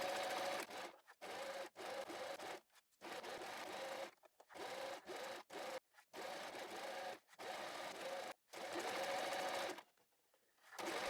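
A sewing machine stitches along the edge of a twisted fabric tube in bursts of steady rapid whirring, stopping and restarting about a dozen times, close and clear with no talk.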